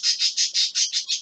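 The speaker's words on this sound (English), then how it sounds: "those are the birds if you can hear them" Birds squawking outdoors in a steady run of about eight loud, harsh calls repeated in quick even rhythm, close and clear with no other sound.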